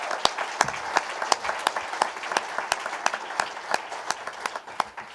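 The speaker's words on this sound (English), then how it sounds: "Can we give Deb Scheffel a round of applause" Audience applause at a university lecture event, steady clapping from a moderate crowd with sharp individual claps standing out, continuous and fairly close throughout.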